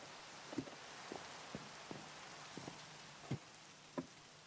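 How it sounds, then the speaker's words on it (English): Rain falling in a cozy garden video game, a soft faint hiss with a few scattered sharp droplet taps landing irregularly, quiet and without talk. "I can't sleep before it stops raining."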